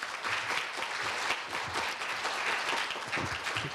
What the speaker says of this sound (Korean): 마음에 들면 박수 한번 치셔야죠.